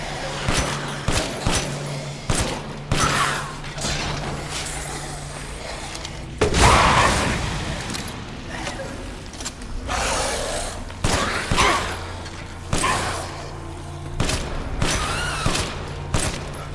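Pistol shots in Resident Evil Village fire in irregular bursts of sharp single cracks, with a louder impact mid-way, over ambient game noise and occasional breathy gasps.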